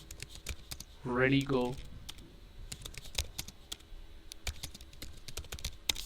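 Close computer keyboard typing on an Ubuntu machine, scattered crisp key clicks in short uneven bursts, with a brief spoken word early on over the keys.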